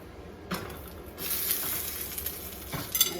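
A quarter of an onion is added to hot oil in a pan and frying starts, building into a steady sizzle with a few soft stirring scrapes.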